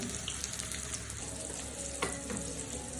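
Pointed gourd (potol) frying in a pan gives off a steady, dense sizzle with faint crackles and a few brief clinks, continuous and close with no voices.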